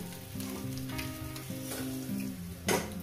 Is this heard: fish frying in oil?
yes